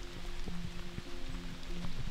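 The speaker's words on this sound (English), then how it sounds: "It's raining." Steady rain falling outside a cabin, a continuous soft patter with a low hum underneath, fairly close and even throughout.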